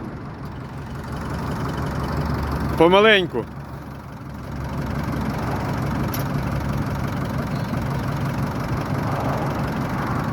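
A Kubota GT-3 tractor engine idles steadily nearby, a low continuous rumble, with a brief voice speaking partway through.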